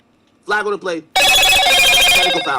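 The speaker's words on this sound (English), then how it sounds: "Oh, that's my phone." A phone rings loudly right after brief speech, a bright, sustained electronic ringtone with layered tones filling the rest of the moment up close.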